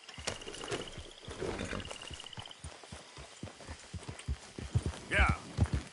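Horse hooves clip-clopping at a steady riding pace in the Red Dead Redemption 2 video game, a rhythmic run of soft thuds with game ambience and a spoken voice over it.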